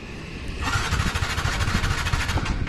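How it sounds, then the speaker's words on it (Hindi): A TVS Ntorq 125 scooter with an E20 fuel sticker cranks continuously without catching, a steady, close, whirring starter-motor grind that begins after a short quiet moment and runs on without the engine firing. "आप देख रहे हैं स्कूटर स्टार्ट नहीं हो रहा है"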